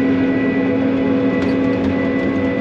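A combine harvester running with its chopper engaged, a loud steady mechanical drone with a constant engine hum and whirring tone, close and unbroken, no voices.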